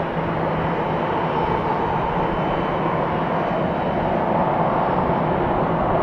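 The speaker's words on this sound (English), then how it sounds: "Big airplane, that's what we like." A wide-body airliner taxis at Atlanta's airport, a loud, steady engine roar with a broad rumbling body that holds constant over several seconds, no talking.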